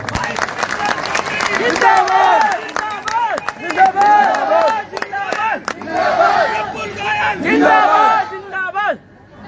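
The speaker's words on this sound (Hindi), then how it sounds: "इसके लिए एक बार जोरदार ताली बजा दो।" A large crowd cheers and shouts at a Hindi-language political rally, with clapping beneath the voices. Loud, rising whoops and chants come in repeated surges, close and energetic, then fade near the end.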